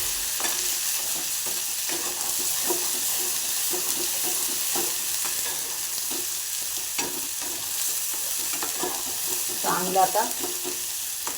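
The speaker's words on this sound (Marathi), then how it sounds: "आता आपण वाटण चांगलं तेल सुटेपर्यंत परतून घेतो." Ground masala paste stir-fries in oil with a continuous close sizzle and repeated scraping stirs. A few brief spoken words come in near the end.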